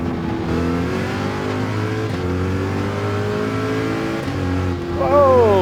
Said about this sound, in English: Corvette taking the off-road course really well.